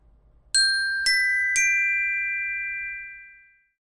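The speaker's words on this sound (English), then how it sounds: "This first sound is this ding dong means simply that we are beginning a exercise." Three bright, bell-like chime strikes mark the start of a workout exercise, evenly spaced about half a second apart, each ringing clearly and fading slowly into silence over a quiet background.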